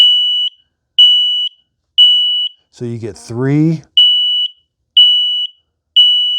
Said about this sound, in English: It's going to do the smoke alarm first.